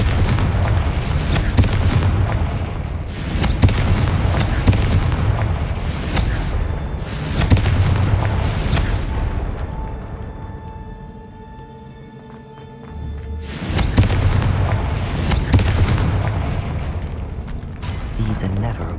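Repeated blasts of the Confringo fire spell in the Hogwarts Legacy video game: loud, booming explosive bursts in several clusters, separated by a quieter stretch with a thin ringing tone before the blasts return.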